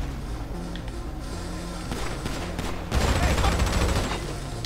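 Bursts of gunfire in GTA Online, rapid shots rising into a denser volley near the end, mixed with game noise and a faint voice underneath.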